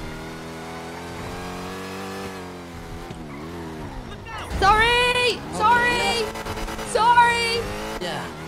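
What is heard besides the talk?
loud car engine revving in video game GTA V (NoPixel)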